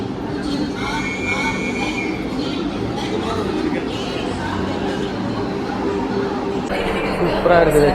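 Continuous rumbling and clattering of a Vande Bharat train from Ernakulam to Bengaluru, with occasional high wheel squeals, heard up close under faint chatter of people nearby.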